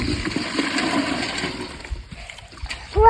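Water rushes and splashes steadily, like a flush or running tap, fading toward the end before a brief noise cuts in.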